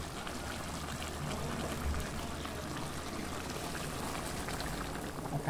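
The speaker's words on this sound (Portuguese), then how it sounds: "E vou colocar água agora." Water pours steadily into a cooking pot that already holds chicken, a continuous close splashing wash lasting several seconds with no talking over it.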